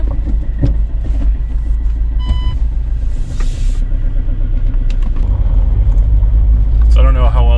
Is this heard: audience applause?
no